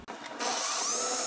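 Power drill boring a plug-weld hole in a steel steering beam on a 1960 Volkswagen Beetle Baja build: a short scrape, then a steady, close, loud grinding whine that builds and holds to the end.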